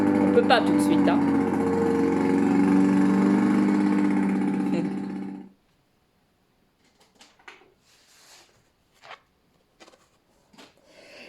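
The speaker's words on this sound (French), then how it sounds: "c'est le bruit d'un tracteur tondeuse." A riding mower engine drones steadily and close for several seconds, then cuts off, leaving near-silence with a few faint clicks and taps.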